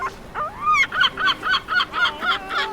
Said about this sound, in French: Mais c'est pas une mouette ça, c'est un goéland.